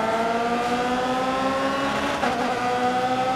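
A race car engine in the racing game Grid Autosport drones steadily at high revs, its rising harmonic whine holding loud and continuous with no voices.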